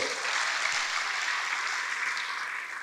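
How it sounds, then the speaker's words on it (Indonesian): A church congregation claps steadily in sustained, dense applause that stays fairly even throughout, with no voice standing out above it. "Berikan tepuk tangan bagi Tuhan"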